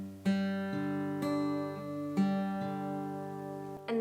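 Acoustic guitar fingerpicking the opening pattern of a song, clear plucked notes ringing over a sustained bass, with four distinct attack groups evenly spaced, close and solo with no talking.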